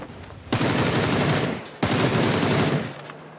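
Two sustained bursts of rapid automatic gunfire from a shooting video game, each lasting over a second with a short gap between, loud and close, with no talking over them.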